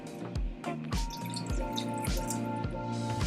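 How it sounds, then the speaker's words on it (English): Water drips and splashes rhythmically into a pot of cooked meat being made into noodle soup, a close, steady series of wet plops and trickles. "now I'm going to add just 2 cups of water"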